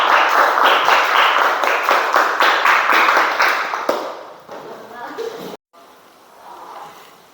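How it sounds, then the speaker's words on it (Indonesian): Classroom applause from students for a group during a teacher-training lesson: a few seconds of dense, loud clapping that thins and fades, then quieter room noise with a brief pause. "Tepuk tangan untuk kelompok 2"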